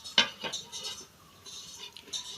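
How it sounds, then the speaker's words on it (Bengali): A metal lid is set onto a cooking pot of carrot halwa with a couple of sharp clinks and clatters up front, then softer rattling taps, close by in a quiet kitchen. "এখন ঢাকা দিয়ে দেব 5 মিনিট।"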